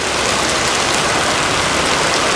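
Steady rain falls in mid-July on a farm during the corn-growing season. It makes a dense, even hiss throughout, loud and close, with no voices.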